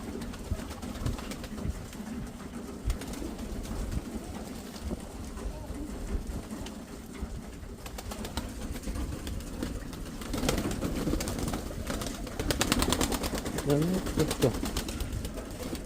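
A pigeon coos softly near a man handling birds in a yard, low throaty calls rising toward the end over a busy background of rustling and movement.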